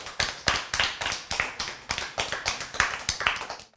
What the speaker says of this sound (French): Très bien. Applaudissez pour Neila.